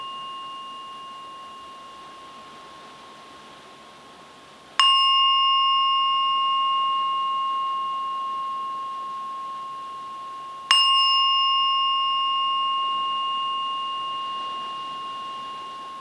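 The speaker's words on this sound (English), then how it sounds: "slowly come out of your meditation when I ring the bell" A meditation bell is struck twice, about six seconds apart, each strike ringing out with a bright, sustained tone that slowly decays over quiet room hiss.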